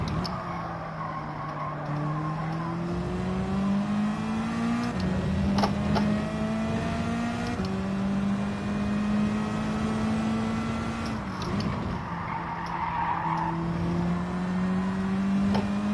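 A race car engine in Gran Turismo 7 revs hard and close, its pitch climbing in repeated sweeps with brief dips between gear changes, with no talking over it.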